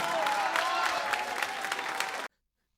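A standing audience at a cultural centre gives sustained applause, a dense, moderately loud clapping wash with a few sharper individual claps, ending abruptly in silence near the end.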